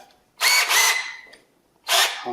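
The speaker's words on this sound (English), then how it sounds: "I'll drill a pilot hole first." A power drill whines loudly in two close bursts drilling a pilot hole in metal, pauses briefly, then spins up again for another short burst, nearby with no talking.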